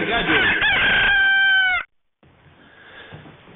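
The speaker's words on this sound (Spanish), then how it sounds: "El despertar del gallo." A rooster crows loudly and close by, one long wavering call that cuts off abruptly, followed by quiet background noise.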